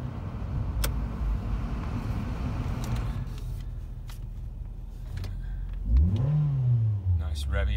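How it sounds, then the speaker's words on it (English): A Ford C-Max 2.0 automatic's engine revs up and settles over several seconds, with a rising whine near the end; no voices are heard. "Nice revvy engine."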